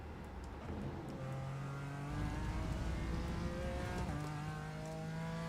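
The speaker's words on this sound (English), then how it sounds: "I wanna hear this engine." BMW M4 GT4 race car engine at Road America in iRacing, revving and climbing through gears in rising, buzzy sweeps that dip at each shift, heard steadily and close with no talk over it.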